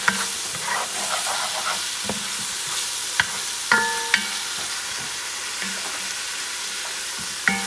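Sofrito sizzling and frying in a pan as a spoon stirs it for a turkey neck fricassee, a steady hiss broken by several sharp scrapes and clinks of the utensil against the pan.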